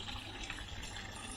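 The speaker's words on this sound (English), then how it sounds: "Just giving it a little top up with water." A steady gush of water pours into a garden pond, an even splashing fill with no pauses.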